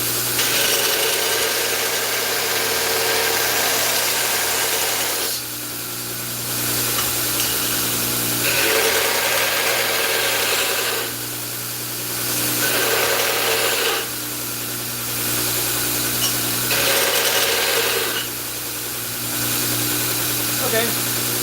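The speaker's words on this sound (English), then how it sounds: "I'm going to go ahead and grind this a little bit" A power grinder grinding a ring pommel for a reverse falchion, loud steady whining bursts of several seconds each broken by brief dips, with a constant motor hum throughout.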